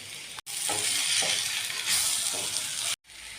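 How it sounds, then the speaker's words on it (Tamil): Boiled potatoes with turmeric and salt sizzle and hiss in a pan while being stirred for potato masala, a dense continuous frying noise with a few faint spoon scrapes, stopping briefly at both ends. "நல்லா கிளறி விடுங்க."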